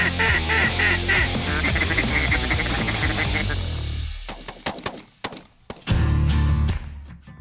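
A dense chorus of many ducks quacking in a Prairie Pothole region wetland, loud and overlapping at first, then thinning to scattered calls and a few sharp knocks before the flock swells again.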